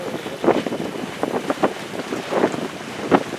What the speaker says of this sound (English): So we're tacking back and forth, having a good time.